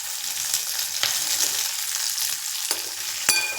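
Green chillies broken into hot oil in a pan for thuvaiyal, a steady close sizzle and crackle with a few sharp pops from stirring, no talk.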